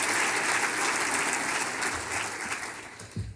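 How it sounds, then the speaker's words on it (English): Dense, steady applause from a luncheon crowd at the 2021 Goldstar Luncheon fills the room evenly, holding strong before tapering slightly at the end. "Can we give a round of applause?"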